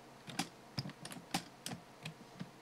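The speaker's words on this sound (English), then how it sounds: "I'm sorry if you can hear the clacking of keys" Computer keyboard keys clack in quick, uneven bursts of separate taps, close and fairly loud, with no talking over them.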